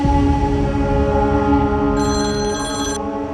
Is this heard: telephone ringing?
yes